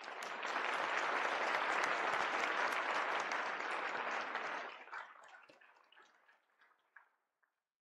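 An audience bursts into loud, dense applause at a live event, clapping strongly for several seconds before tapering off into a few scattered, isolated claps and near silence.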